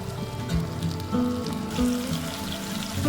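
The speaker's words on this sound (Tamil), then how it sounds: "மீடியம் ஃப்ளேமில் வச்சு ஃப்ரை பண்ணி எடுத்துக்கோங்க" Masala aloo potato fries crackle and sizzle steadily in hot oil over a medium flame, a soft rain-like patter under background music.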